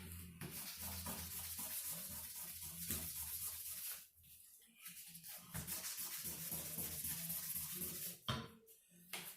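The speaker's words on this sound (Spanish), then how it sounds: "No se olviden el lijado en una sola dirección." Hand sanding with fine 2500-grit sandpaper in a craft class, making a steady, close, hissing rub that carries on in repeated strokes, with brief pauses between them.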